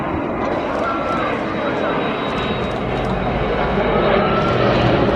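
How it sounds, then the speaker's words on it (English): A Royal Air Force Airbus A400M Atlas from 70 Squadron, RAF Brize Norton, flies past at Eastbourne Airshow, its steady broadband engine roar filling the air continuously and swelling slightly louder toward the end. "Next up we have the Royal Air Force Airbus A400M Atlas II."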